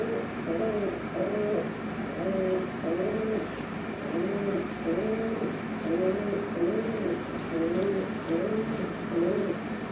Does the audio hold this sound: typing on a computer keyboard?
no